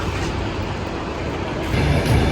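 A passenger train pulls away onward toward Mukachevo, a steady low rumble of wheels and carriages that swells slightly toward the end, heard without speech.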